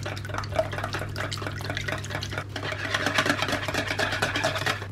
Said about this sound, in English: You just wanna give this a good mix.